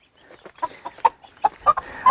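Close clucking from a broody hen sitting on eggs in a nest comes as a quick string of soft, uneven pulses that grow a little louder toward the end.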